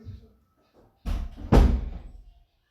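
An interior door in a newly bought house is pushed shut, giving a soft first thud followed half a second later by a louder, heavier slam that rings briefly and fades, close by in a quiet room.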